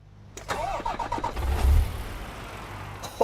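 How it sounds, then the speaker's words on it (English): A DAF truck engine in Euro Truck Simulator 2 cranks with a rapid starter whir, catches with a deep rumble and settles toward a steady idle, loud and close with no talk. "so let's get this truck running."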